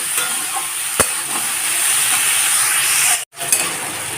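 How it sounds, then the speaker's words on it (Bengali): Ridge gourd sizzles and fries over a high flame as it is stirred in a pan. A steady bright hiss carries throughout, with a sharp scrape near the start and a brief cut-out near the end. "ঝিঙেটাকে এইভাবে ভালো করে নাড়াচাড়া করে"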